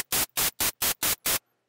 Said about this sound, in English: Hi-hat should be all white noise